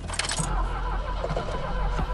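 A Volga car's engine stalls during a rally: a loud, rough rumble with clattering and jangling, shaking unevenly before cutting out near the end, heard from inside the cabin.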